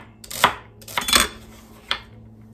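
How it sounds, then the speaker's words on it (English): A knife slicing through one stalk of celery on a cutting board, three or four crisp crunching cuts landing against the board, close and alone. "so I'm gonna slice it"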